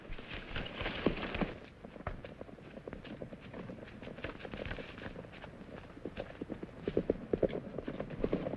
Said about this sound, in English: He's trying to steal the mares. He's a smart horse.